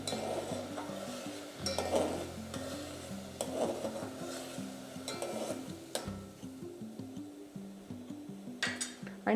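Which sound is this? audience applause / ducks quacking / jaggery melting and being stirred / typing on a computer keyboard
jaggery melting and being stirred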